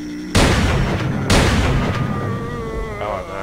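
Two loud, close gunshots boom from a weapon in STALKER, spaced about a second apart, each trailing into a long rumbling echo.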